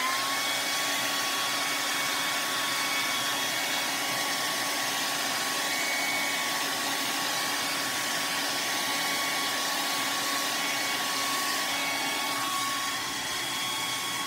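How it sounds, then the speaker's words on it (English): Steady, continuous whoosh of a hair dryer drying a watercolor painting at close range, with a faint high whine running through it, unbroken from start to finish. "I'm just gonna hit this with the hairdryer to speed it along."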